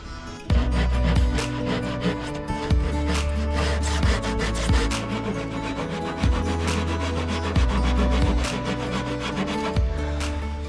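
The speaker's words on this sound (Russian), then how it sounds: "Теперь придется вручную отпиливать." A hand saw cuts through a wooden panel piece in steady rhythmic back-and-forth strokes, loud and close, each stroke a rasping rub, with no talking.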